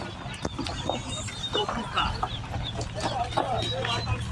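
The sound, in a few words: village chickens and roosters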